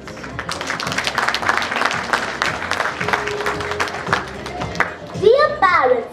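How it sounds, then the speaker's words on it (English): Audience applause at a school's fusion dance performance, dense, lively clapping from a crowd with children's voices mixed in, holding strong before a brief rise of voices near the end. "Please give them a huge round of applause"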